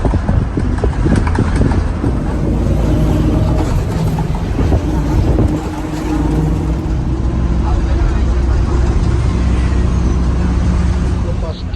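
Inside a KSRTC Swift bus running from Kottakkal to Kozhikode, a steady engine rumble and road noise carry on throughout, with people talking over it.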